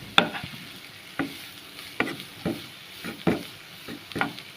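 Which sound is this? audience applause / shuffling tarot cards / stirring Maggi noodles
stirring Maggi noodles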